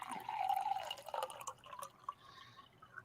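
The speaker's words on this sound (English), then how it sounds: "Let me pour myself a drink before we start this Friday night" Liquid pours into a glass on a Friday night, a short burbling fill with a few drips and small splashes fading out near the end, close and fairly quiet.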